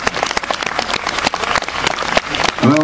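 A live concert audience applauds steadily with dense, loud clapping throughout, and a voice breaks in near the end.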